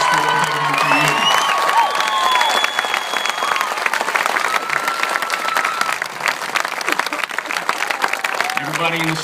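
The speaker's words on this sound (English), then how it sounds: "Give them a round of applause for what they're doing for you." A crowd of families in the stands at a graduation ceremony bursts into loud, sustained applause, with cheering and whoops, and scattered voices shouting over the clapping.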